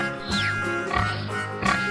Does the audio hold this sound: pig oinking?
yes